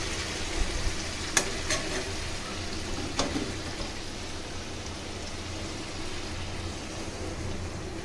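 Sautéed mutton kosha for a pressure-cooker curry sizzles in its released oil, a steady broadband frying hiss with a few sharp clinks and splutters early on as hot water goes in, no voices.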